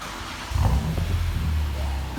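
A 2006 BMW M3 fitted with a Megan Racing exhaust and AR20 mufflers gives a short, deep rev that rises after a quiet moment and holds for a couple of seconds, close by.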